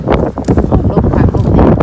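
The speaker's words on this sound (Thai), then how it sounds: "ลมพัดลมแรง" Strong wind buffets a microphone outdoors while foraging for wild vegetables, giving a loud, gusty low rumble with irregular bursts, close and constant beneath a person talking throughout.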